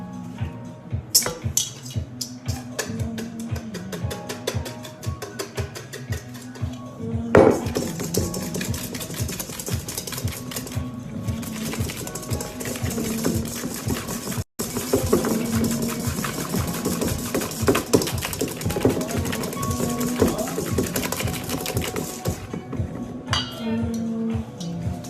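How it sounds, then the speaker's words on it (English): Egg yolks and sugar being whisked for tiramisu, a steady whirring mechanical buzz that runs nearly the whole time with one very brief break partway through, fairly close and with no talking. "we're gonna whisk this as well"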